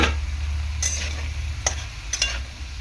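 Ridge gourd pieces tipped into potatoes and ginger frying in oil, giving a steady sizzle with a few sharp stirring scrapes and clatters from a utensil in the pan.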